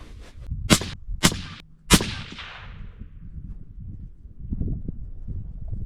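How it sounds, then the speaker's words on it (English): Three sharp rifle shots crack in quick succession at an outdoor range while a group is fired at a target, each followed by a short decaying echo, then quiet wind-blown rustling. "See if we can shoot a better group than we did a while ago."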